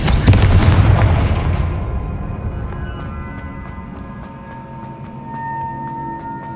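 A Confringo blasting spell explodes in Hogwarts Legacy, one loud, deep boom at the start that rolls off into a long, fading rumble with faint ringing tones trailing behind.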